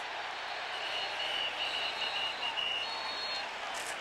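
Stadium crowd at a college football game between Bowling Green and Oklahoma, a steady distant roar of cheering that holds at an even level throughout, with a faint whistle-like tone partway through.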